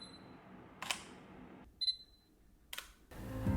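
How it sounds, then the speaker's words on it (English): A Sony A7 IV mirrorless camera fires a few crisp shutter clicks, sharp and close, separated by short quiet gaps with a faint electronic beep between them. "I just like the deeper shutter click on the A7 IV than the Alpha One"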